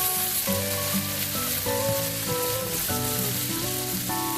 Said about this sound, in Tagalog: Medyo i-fry lang natin konti yung ating patatas at carrots.